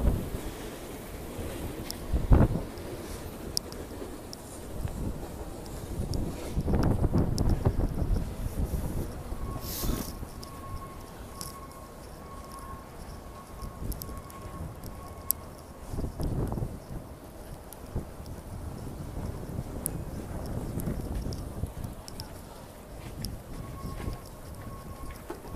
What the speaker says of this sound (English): Oh wow, the wind is really whipping up the Hudson River, that's for sure.